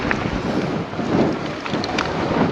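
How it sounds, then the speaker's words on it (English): Strong, cold February wind in the mist roars and buffets against the microphone in loud, continuous gusts, with no voices. "it's so windy."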